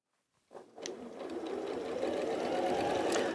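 A sewing machine starts up and runs steadily, stitching quilt strips with a small stitch length, a close, even whirring hum that builds quickly after a brief silence.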